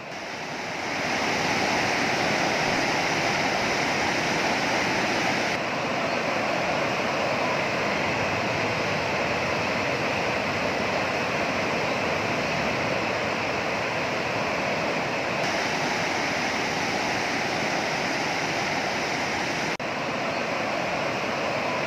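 Floodwater on the Yamuna surges in a fast current in Uttarkashi, Uttarakhand. It makes a steady, loud roaring rush like heavy surf that never lets up, and no voices are heard.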